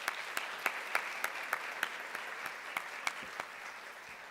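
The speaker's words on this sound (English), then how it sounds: "Let's give them another round of applause." Sparse, fairly quiet applause from an audience at a school district kickoff celebration, individual claps ticking in an even rhythm that fades toward the end, with no talk over it.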